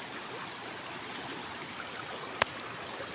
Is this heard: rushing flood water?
yes